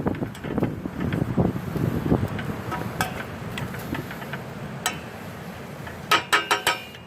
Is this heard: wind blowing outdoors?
yes